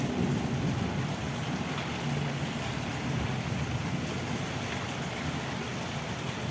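Steady heavy rain falls through a thunderstorm in Saudi Arabia, a dense, constant roar close by with low rumbling underneath and no one talking.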